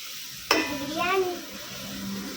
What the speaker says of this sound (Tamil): இப்போ நல்லா கல் உப்பு போட்டு வதக்கி விடலாம் நல்லா வதக்கணும்